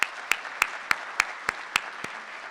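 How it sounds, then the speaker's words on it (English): A Gaithersburg State of the City 2025 audience gives a round of applause, a steady wash of clapping punctuated by eight sharp, evenly spaced loud claps about every third of a second. "Let's give them another big round of applause."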